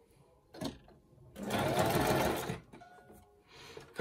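A sewing machine stitches fabric scraps into little envelopes: a brief whirring burst, then a longer steady run of rapid stitching, then another short burst, each separated by quiet pauses.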